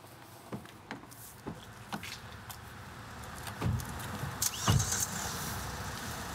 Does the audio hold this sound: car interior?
yes